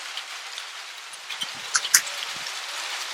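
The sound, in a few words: heavy unseasonal rain falling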